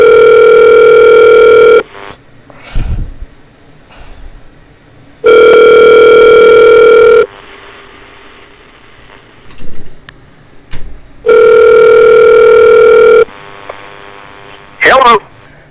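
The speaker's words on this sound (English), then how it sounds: "I got a dial tone." A telephone line in a phone call: loud, steady electronic tones play in three long blocks of about two seconds each, separated by quieter stretches of line noise and faint clicks, then a short tone at the end.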